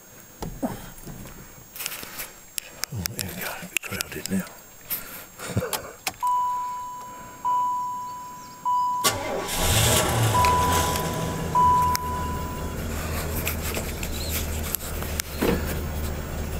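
An old American car, a Bluesmobile of the kind once used as police cars and taxis, with its engine turning over and catching around midway, then settling into a loud, steady idle after clicks and clunks.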